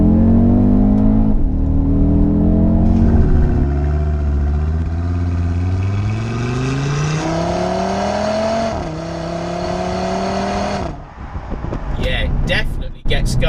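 An Audi RS Q3 with quattro drive pulls hard in second gear, its engine note rising loud and close before a quick shift into third and a fresh climb. A brief pause and some clatter close it out.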